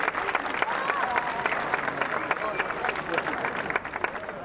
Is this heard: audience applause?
yes